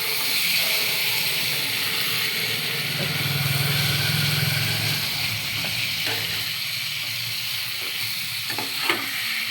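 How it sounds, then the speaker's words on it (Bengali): Pangas fish frying in spice masala in a pan, a continuous close sizzle and hiss with occasional stirring clatters and a brief utensil tap near the end. "মশলাটা কষার সাথে সাথে একটু মাছটাও ভাজা ভাজা হয় হালকা"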